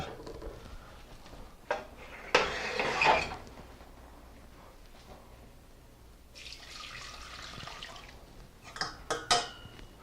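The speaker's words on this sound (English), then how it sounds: "What I want to do is to run the liquid in this through a strainer" Pot roast cooking liquid and drippings pour through a kitchen strainer in a few splashing bursts, with soft clinks of cookware between pours and no talking.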